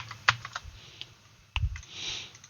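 A computer keyboard is tapped for a Ctrl+B shortcut during admin template web work, a few sharp isolated key clicks close by with quiet pauses between.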